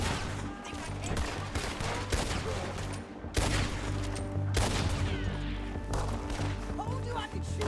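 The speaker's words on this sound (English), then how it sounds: "Told you I could shoot a gun, didn't I?" Rapid bursts of gunfire in the Red Dead Redemption 2 western game, sharp loud cracks coming in irregular volleys with a few heavier blasts, under a constant hum of background action and commotion.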